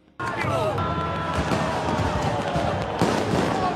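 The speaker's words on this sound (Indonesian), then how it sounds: "seluruh tahanan bersorak dan menyalakan kembang api" Loud crackling bursts and pops of fireworks going off continuously inside a prison, with cheering and shouting prisoners throughout.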